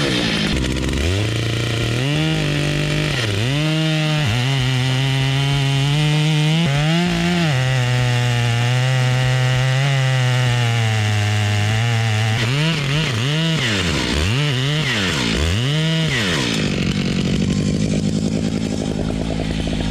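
A chainsaw cuts the back cut while a tree is felled, engine held loud and close at high revs with pitch dips as the chain bogs in the wood, then easing off near the end.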